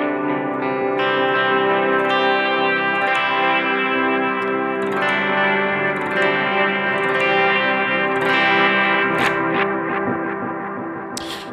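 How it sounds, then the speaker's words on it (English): An electric guitar played through an ambient pedalboard, with a pedal running into a bright delay and a little reverb, gives sustained, shimmering chords that trail off in echoing repeats and washes of reverb. "where this pedal really shines is when it has run into a brighter delay, and obviously a little reverb"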